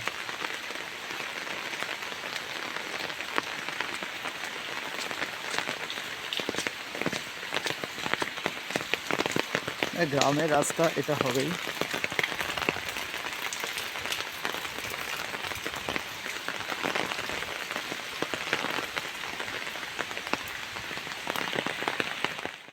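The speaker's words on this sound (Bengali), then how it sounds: "প্রচন্ড বৃষ্টি হয়ে গেল" Steady heavy rain pours down across the whole stretch, a dense hiss of drops, with a brief spoken phrase partway through.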